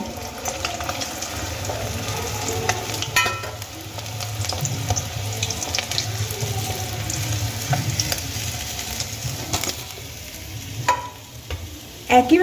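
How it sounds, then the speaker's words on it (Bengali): Lailontika fish frying in hot oil in a karahi, a steady close sizzle throughout, with occasional clinks and scrapes of a spatula turning the pieces and a few louder knocks at the end. "একইভাবে বাকি মাছগুলো আমি ভেজে নেব"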